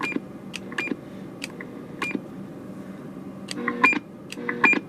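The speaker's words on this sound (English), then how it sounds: "Now let's turn the beep on." A Galaxy DX 959 CB radio with a modified echo board sends short electronic roger beeps, several brief tonal chirps spaced irregularly over a quiet hiss, with a few louder beep bursts near the end.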